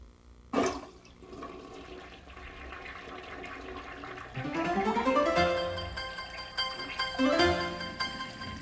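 A toilet flushes with a sharp handle click followed by rising, rushing water that swirls and refills for several seconds, heard close and fairly loud.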